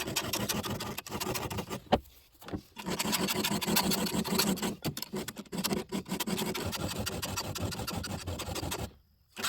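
A hand file rasps across the cutters of a chainsaw chain in steady, close strokes, with brief pauses between passes and a short silence near the end.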